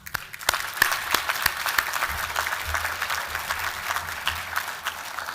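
Sustained applause from a graduation audience honouring award winners at a Melbourne university ceremony, dense steady clapping throughout with a few sharper individual claps and a faint low hum beneath.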